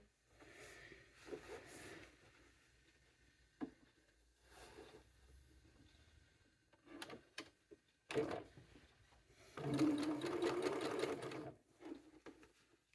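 Sewing machine stitching a seam on a tote bag, running in several short whirring bursts with pauses between, a longer run near the end, quiet and close with faint handling sounds.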